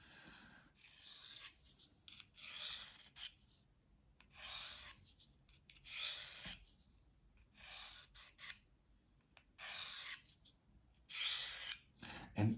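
A knife drawn along the rod of a Victorinox Dual Sharpener, a rhythmic rasping stroke repeated about a dozen times, close and fairly loud, each pass a bright scrape followed by a brief pause.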